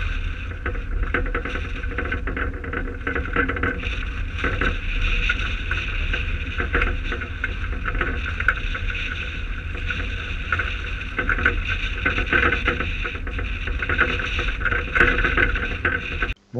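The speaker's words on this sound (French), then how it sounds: "Le vent monte. Il y a déjà 40 nœuds dans le port en rafale." Strong gusting wind of around 40 knots in a harbour, roaring steadily and loudly across the microphone with a constant low rumble and buffeting, no voices.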